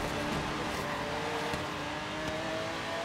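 A race car engine in Forza Horizon 3 drones and revs steadily in a faint, distant tone, with a thin whine running through the steady hum.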